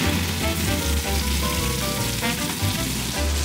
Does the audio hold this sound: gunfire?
no